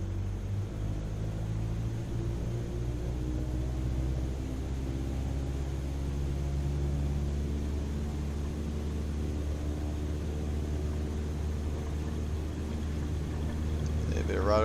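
A light aircraft's piston engine in Microsoft Flight Simulator at Frasca Field, a steady droning hum with layered harmonic tones that rises gradually as the throttle is pushed up for takeoff, continuous and fairly close.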